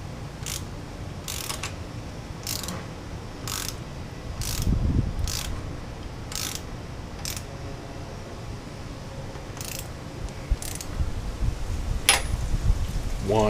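Ratchet from a deep-well SAE socket set tightening parts on a Suzuki Boulevard C50 bobber, with short clicking strokes repeating at a steady pace, then more scattered ones, close by over a constant background hiss.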